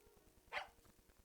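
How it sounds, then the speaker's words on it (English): A single short dog yap from the video game Tiny Bunny, a sharp bright bark over a quiet, faintly humming ambient background. "The dog yapped in agreement."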